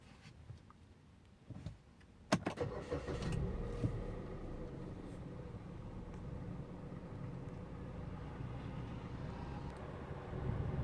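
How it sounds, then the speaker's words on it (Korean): A car engine cranks and catches with a sharp burst, then settles into a steady low idle rumble inside the cabin, with a few faint clicks over it. "자, 시동을 한번 제가 켜보도록 할게요."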